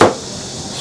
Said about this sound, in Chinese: 切点姜片、